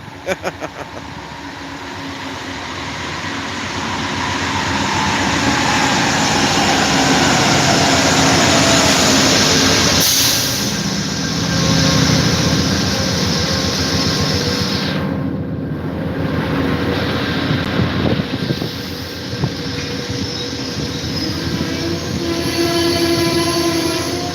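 A train rumbles past close by for a long stretch, a loud continuous roar of rolling cars with a horn sounding briefly.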